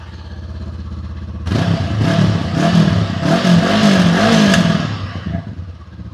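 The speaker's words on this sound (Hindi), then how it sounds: "So guys parallel twin engine है तो इसका एग्जॉस्ट सुनना बनता है।" Honda NX500 parallel twin engine idles, then its exhaust is blipped several times, rising and falling revs in quick bursts, close and loud, before settling back toward idle.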